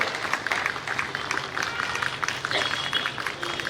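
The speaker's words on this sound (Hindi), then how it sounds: "जोरदार तालियां" An ashram audience applauds a spiritual leader, with a dense wash of clapping at moderate volume while a voice talks over it.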